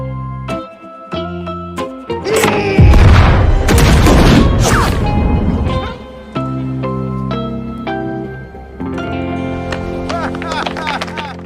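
A massive explosion destroys a lighthouse tower in an action comedy film, a loud boom with a long roaring blast and crashing debris over several seconds, set between stretches of dramatic film score.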